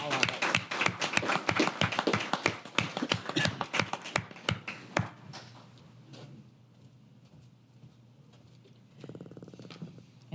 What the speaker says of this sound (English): Now, let's give them another round of applause.